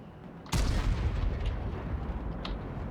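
A tank cannon fires once in an online tank combat game, a loud sudden boom with a long rumbling tail that fades slowly. A fainter thud follows later.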